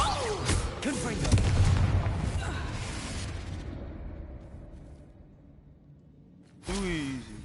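A Confringo fire spell from Hogwarts Legacy goes off in a deep, rumbling booming blast that swells and slowly fades, then a second burst hits near the end, with a voice briefly heard under the noise.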